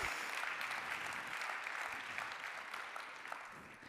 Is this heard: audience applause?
yes